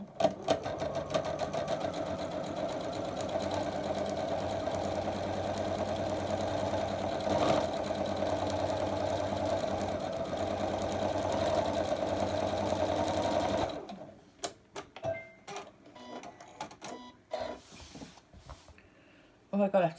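Sewing machine running in a long steady stitching burst, fairly loud and close, stopping abruptly near the end to leave scattered small handling clicks; the thread had been shredding.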